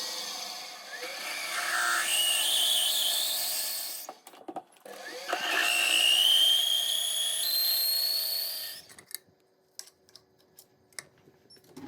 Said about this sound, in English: So I'm just going to drill that out.